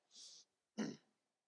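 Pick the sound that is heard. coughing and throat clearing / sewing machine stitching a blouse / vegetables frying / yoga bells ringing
coughing and throat clearing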